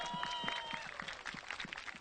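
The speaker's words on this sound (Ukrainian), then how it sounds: "Ваші оплески." Audience applause for a contestant on a televised adult karaoke show, a dense steady patter of many hands clapping at moderate loudness throughout the short stretch.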